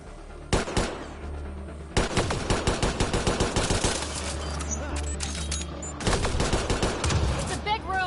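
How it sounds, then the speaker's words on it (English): Rapid gunfire fills a gun battery in the Mass Effect Andromeda video game, bursts of automatic shots and sharp reports over a low rumbling score, with brief pauses between volleys and some character speech. "It's a gunfight in the gun battery then!"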